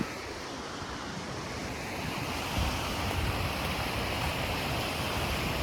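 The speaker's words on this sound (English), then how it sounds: "this is the amazing waterfall over here" Steady roar of falling water at an Icelandic waterfall, a broad continuous rush with gusty wind noise on the microphone, swelling slightly louder midway and staying unbroken with no voices.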